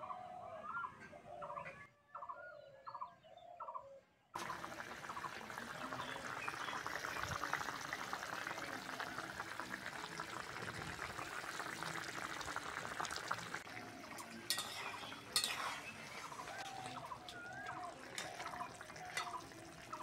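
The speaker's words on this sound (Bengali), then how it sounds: "টমেটোটাকে ভালো করে ফুটিয়ে সিদ্ধ করে নেব" Tomatoes boiling in a pan for a Bengali bata fish dish give a steady, soft, bubbling hiss that runs unbroken for most of the clip, after a few brief gobble-like animal calls at the start.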